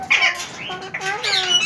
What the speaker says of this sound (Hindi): ये भी अलेक्जेंड्राइन का पेयर है।